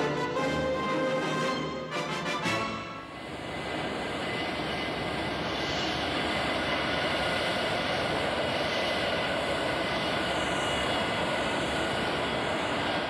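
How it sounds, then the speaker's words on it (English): F-111 fighter bomber jet engine roaring loud and steady, a whining tone sweeping over broad rushing noise after a few seconds of rumbling start-up, continuous to the end. "This is the F-111, a fighter bomber that has seen action in Vietnam and in the Persian Gulf."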